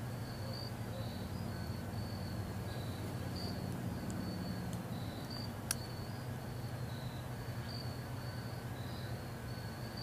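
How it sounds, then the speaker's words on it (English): Crickets chirping outdoors, a steady high-pitched trill repeating throughout over a constant low background hum, with a single faint click near the middle. "Can you hear the crickets?"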